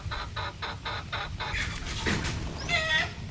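A caged sweater gamefowl rooster gives a series of evenly spaced clucks, then a louder, higher squawking call, close and fairly quiet against faint background noise.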